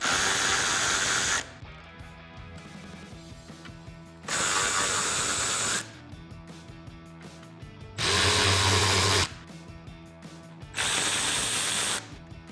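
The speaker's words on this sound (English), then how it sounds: "so grab a 10mm socket and a ratchet," A ratchet and 10mm socket work the front grille bolts on a 2013-2018 RAM 1500, heard as four bursts of loud, whirring ratcheting that alternate with quieter mechanical pauses.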